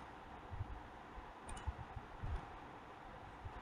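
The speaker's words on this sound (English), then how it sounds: "We can click on continue button." Faint computer mouse clicks on a continue button in a form-filing session, a few soft isolated clicks spread over a quiet background hiss.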